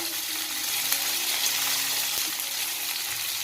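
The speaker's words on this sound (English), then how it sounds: "So I will just shallow fry this fish" Fish shallow-frying in a pan of oil gives a steady, close sizzle that holds evenly throughout, with a faint stir or tap midway.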